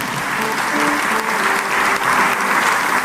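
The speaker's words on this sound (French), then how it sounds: "Acclamons le Seigneur." Church congregation applauding together, a dense, loud, continuous wash of clapping that holds steady throughout, with faint voices mixed in.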